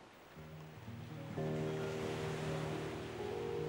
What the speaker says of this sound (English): it's in a tide pool, so there's a certain point at which the tide comes in